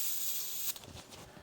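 An airbrush sprays paint, with burgundy mentioned, onto a Creature Caster miniature model (The King of Ruin / Emperor Dragon): a steady close hiss that cuts off partway, followed by soft rubbing and handling noises.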